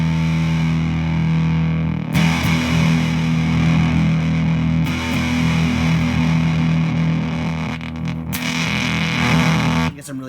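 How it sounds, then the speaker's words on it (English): Electric guitar played through a Fuzz Factory pedal built with NOS germanium transistors gives a thick, spitty, zippery sustained fuzz tone. Strummed chords ring loud and continuous, with a few sharp attacks and no talking. "totally different spitty, zippery fuzz noise"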